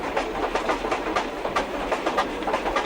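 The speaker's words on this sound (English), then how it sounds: "As the day winds down, they board a train to head towards their next destination." Train carriage riding along rails, a steady broadband rumble with faint rhythmic clicks repeating throughout, fairly close and continuous with no talking.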